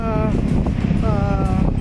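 Wind blowing at Bagasbas beach buffets the microphone with a steady, loud low rumble that lasts the whole moment, while a person talks over it.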